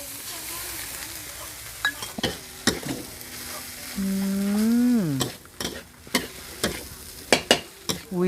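A metal spatula scrapes and clanks repeatedly in a wok, stir-frying rice over sizzling heat, with a steady stove hum partway through.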